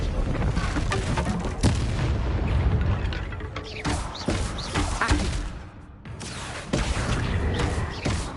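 Confringo spell blasts in Hogwarts Legacy, a string of sharp booming explosions with crackling bursts, loud and close, separated by brief lulls amid a busy combat soundscape.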